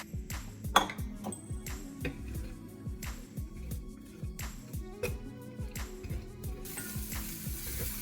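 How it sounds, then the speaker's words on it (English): Carrots and red peppers sauté in a pan, with a steady sizzle and regular clinks and scrapes of a utensil stirring against the metal. "I'm going to add my carrots and my red peppers. And I'm going to saute them about 2 minutes."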